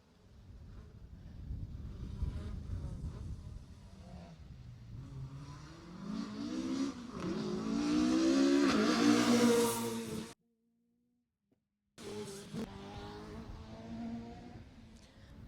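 A Ford Escort rally car at the Jersey Rally approaches on a stage, its engine rising as it revs hard and passes close and loud, then cuts out into silence before another burst of engine noise resumes.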